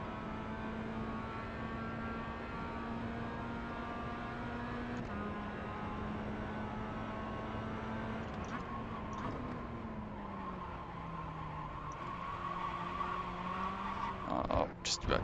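A Mazda race car laps Laguna Seca in the iRacing sim, its engine holding a steady drone with gear changes and tire squeal near the end, loud and continuous with no voice over it.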